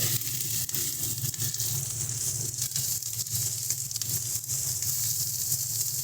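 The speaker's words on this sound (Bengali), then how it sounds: "গ্যাসের ফ্লেমটাকে বাড়িয়ে ভালো মতন করে এটাকে আমরা কষিয়ে নেব" Prawns with onion and spices sizzle steadily in a pan over a high gas flame, a dense, even crackle with faint stirring, no voices.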